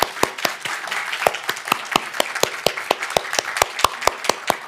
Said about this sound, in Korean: 그런 이야기를 들려준 우리 민영 자매에게 박수.